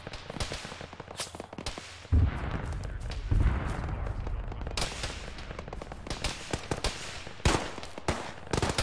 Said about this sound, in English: And now they're firing at us.